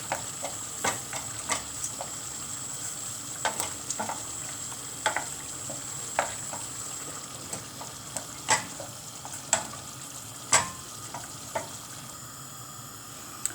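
A utensil scrapes and knocks through pasta and meatballs in tomato sauce in a pan, with irregular clacks and scrapes over a continuous low simmering hiss, close by, with no voice.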